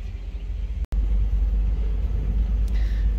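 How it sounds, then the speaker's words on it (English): A 2014 Smart ForTwo BoConcept Edition convertible driven with the top down on a dirt road, a steady low rumble of tires and engine with wind buffeting and a brief dropout near the start. "Take it for a drive with the top down."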